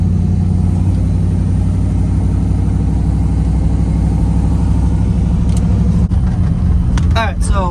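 A car engine runs steadily and loud, a close low rumble throughout as the car pulls away, with brief higher chirps and squeaks near the end.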